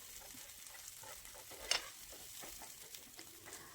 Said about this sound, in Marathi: त्यावर आता जे वाटण केलं होतं ते टाकायचं आहे आणि चांगलं हे परतून घ्यायचं आहे